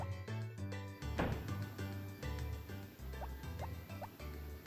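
Crops being watered in Harvest Moon: Back to Nature, a run of quick plinking water drips and splashes set against light game music, with no talk.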